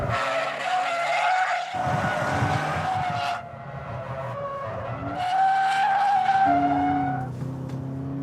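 Loud, sustained tire squeals wail in long overlapping screeches as a Toyota GT86 slides sideways at about 80 mph around a track hairpin, with engine roar underneath.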